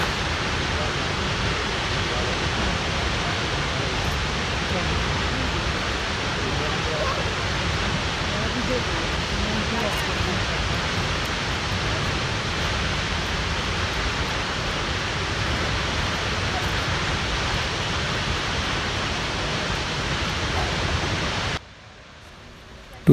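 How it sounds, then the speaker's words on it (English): Snoqualmie Falls, a 268-foot waterfall east of Seattle, Washington, roars as a dense, steady broadband wash for over twenty seconds. The roar cuts off abruptly near the end. "it's a 268 foot, equal to 82 meters waterfall in the east of Seattle."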